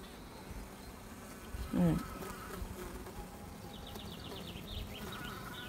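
Honeybees buzz on a hive frame during an inspection, a steady close droning hum throughout, with one louder bee passing near the microphone midway and a voice speaking briefly over it.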